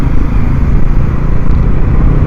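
An NS400 motorcycle cruising on the NH6 highway, a steady, loud engine drone with continuous wind rush heard close from the rider's position, no talking.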